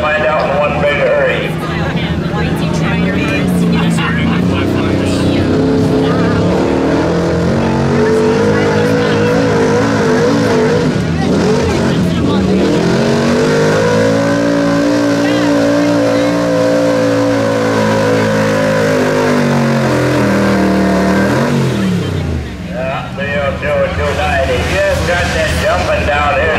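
A GMC pulling truck at a Labor Day truck and tractor pull revs hard, a loud, sustained engine roar that climbs and falls in pitch over about half a minute, with an announcer talking over it.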